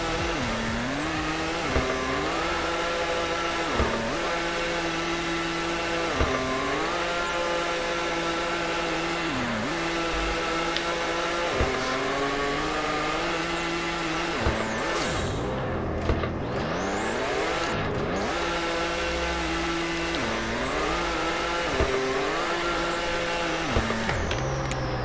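A car drifts in the Roblox game Car Dealership Tycoon, its engine revving up and down in repeated waves with tire squeal through long slides, loud and continuous with no talk.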